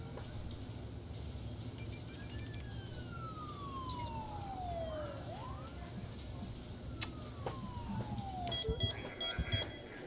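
Ambulance sirens from the SimCity city-building game wail through a steady city ambience, with a couple of falling siren sweeps and brief clicks and pops near the end.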